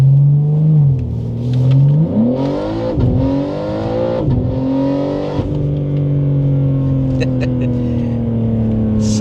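BMW G80 M3 with an aftermarket exhaust revved hard several times in close succession, engine pitch climbing and falling before settling into a steady loud idle drone, close to the car.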